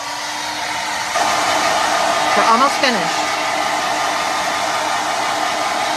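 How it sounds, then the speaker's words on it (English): A hair dryer blows with a loud, steady whoosh at close range, drying paint sealer, and a voice speaks briefly partway through. "So let's hit it again with a hairdryer."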